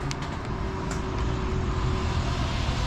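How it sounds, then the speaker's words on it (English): Living room slide-out on a 2023 Forest River Salem 33ts RV extending, its motor whirring steadily with the gasket rubbing and sliding along, a continuous broadband grind with a faint sustained hum, loud and unbroken throughout. "As your slide outs are opening up, that noise is pretty normal. It's just your gasket sliding."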